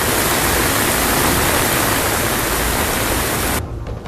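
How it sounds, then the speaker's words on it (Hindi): Floodwater pushing toward homes during heavy monsoon rain in Maharashtra gives a loud, steady broadband roar that fills the whole clip, dropping away suddenly in the last half second. "यहाँ पानी जब आपे से बाहर हुआ तो रिहायशी इलाके की तरफ बढ़ने लगा और इसकी आवाज ही डराने के लिए काफी नजर आई"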